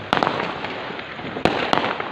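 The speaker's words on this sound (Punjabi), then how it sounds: "ਆ ਕਿਹੜੇ ਪਟਾਕੇ ਹੋਏ ਬਈ" Sharp firecracker bangs burst out in two loud pairs during Diwali, each followed by a crackling, smoky background hiss.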